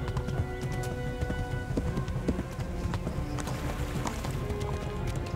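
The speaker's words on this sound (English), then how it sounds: "Our horse is gonna be exhausted in a second here." Horse galloping in the Kingdom Come: Deliverance video game, rapid rhythmic hoofbeats pounding steadily over a busy background with occasional whinnies, close and moderately loud throughout.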